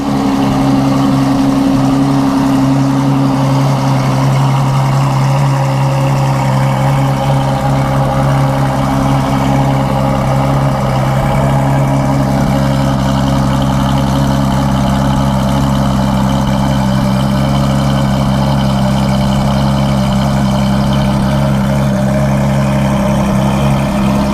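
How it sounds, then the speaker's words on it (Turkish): A Ferrari idles loudly and steadily after a cold start at a Dubai car dealership, at a high, even pitch, a close, constant drone with no voices. "Az önce izlediğiniz bir Ferrari'nin cold startıydı."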